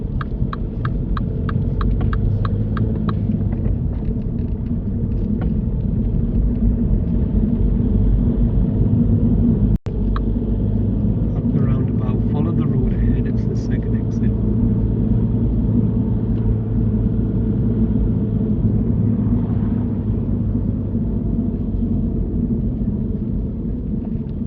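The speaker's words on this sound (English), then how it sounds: "I like the way how she drives round the mini roundabout and doesn't drive over the top" Steady in-car engine hum and low road rumble as a learner driver steers around a mini roundabout during a UK mock driving test, continuous and fairly loud with one brief click midway.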